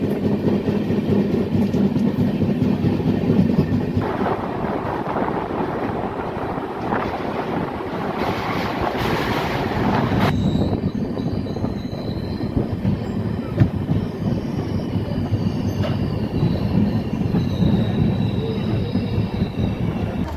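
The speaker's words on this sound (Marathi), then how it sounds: "7:02 अलमाटी रेल्वे स्टेशनवरून आपली गोल गुंबज एक्सप्रेस निघालेली आहे" The Gol Gumbaz Express runs on after leaving Almatti station near the dam, with a continuous loud rumble of wheels and carriage rattle. Wind buffeting and faint high squeals from the wheels run throughout, and no one speaks.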